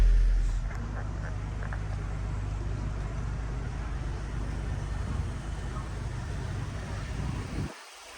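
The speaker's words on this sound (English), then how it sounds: "the car started, which that's really good. I'm happy to hear it running" A 2003-era Audi A4 B6 Avant with the 1.8T engine idles after a service, a low, even rumble held steady for several seconds before cutting off abruptly near the end.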